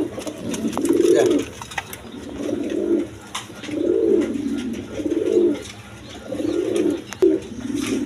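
A pair of Danish pigeons with three-striped red markings coo in repeated low, throaty phrases, five or six swelling bursts about a second apart, close by over a steady background hum with no talk.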